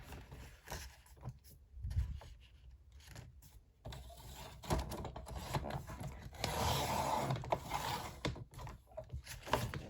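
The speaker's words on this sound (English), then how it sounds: "Let me just remove the branding strip first." A paper branding strip is trimmed off a sheet of cardstock for a flipbook craft, with soft irregular cutting, rustling and scraping sounds close by, fairly quiet, and no talking.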